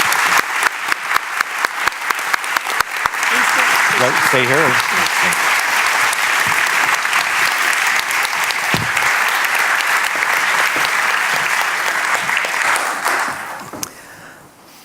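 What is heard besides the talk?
audience applause for Jeremy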